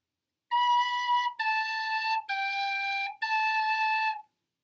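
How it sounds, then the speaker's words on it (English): A tin whistle plays four sustained notes in a simple tune, the opening of Mary Had a Little Lamb, dipping down and coming back up, clear and close with no talking. "Actually, practice your tin whistle."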